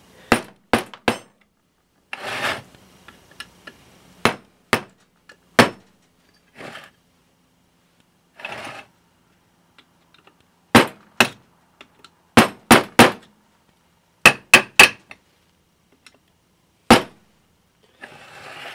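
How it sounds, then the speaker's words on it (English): Sharp metallic hammer blows strike a flat-bladed screwdriver used as a punch on a 1975 GT750 rear wheel brake hub, loud ringing clangs in irregular bursts of single and rapid paired hits separated by quiet pauses. "flat-headed screwdriver here as a punch"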